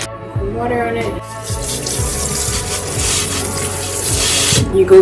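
Water pours steadily from a tap into a sink, with clinks and handling noises over the flow and a brief pause near the start.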